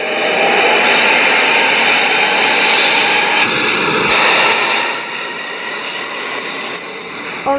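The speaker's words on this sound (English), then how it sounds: "now I am on my subway in the city of South Korea" Loud, continuous rumble and roar of a subway train in South Korea heard from inside a moving car, with steady rolling noise and mechanical whine that eases slightly toward the end.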